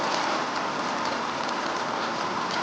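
Steady rain falls in a dense, even hiss that covers the whole scene without pauses, close and fairly loud, with no voices.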